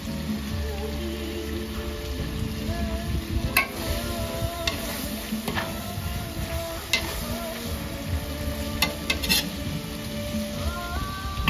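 Food for lamb plov sizzling and crackling in a hot pan, a constant bright hiss with occasional sharp pops and scraping stirs, close and steady.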